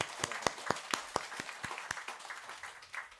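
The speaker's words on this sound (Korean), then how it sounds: "박수 한번 쳐주자고" A small temple audience claps at a Buddhist Friday service, a dozen or so distinct claps ringing out unevenly at first and then thinning into scattered softer claps.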